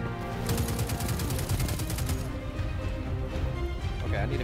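Enemies in the video game Destiny 2 firing at the player, with a rapid, rattling burst of automatic fire up front that gives way to a dense mix of game noise and music, loud and close.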